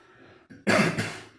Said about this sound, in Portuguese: hoje eu estou tossindo muito